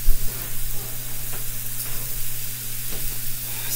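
Shrimp sizzle in a skillet with a soft, steady frying hiss over a low hum, close and fairly quiet, with a few faint ticks.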